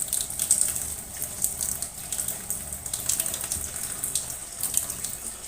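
Kitchen tap water runs steadily into a sink while chicken and fish are rinsed, a close, continuous splashing gush with small irregular surges.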